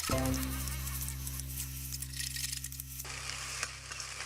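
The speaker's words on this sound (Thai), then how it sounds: "เราก็จะใส่ข้าวลงไปผัดกับไข่เลยค่ะ" Cooked rice stir-fried with egg and pork in a hot pan gives a soft, close sizzle with light scraping, layered over a steady electrical hum from nearby equipment.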